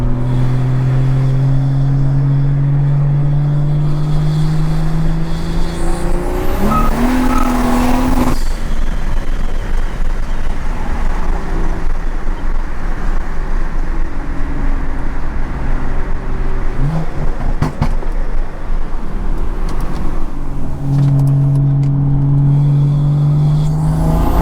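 A 600hp BMW 340i revs hard in third gear while sliding, its engine note rising and falling loud and close throughout, with a brief sharp burst midway and steady tire and road roar underneath.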